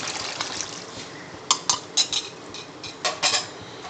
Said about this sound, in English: at this stage is where you have to add is the water, the ginger garlic which is mixed with the water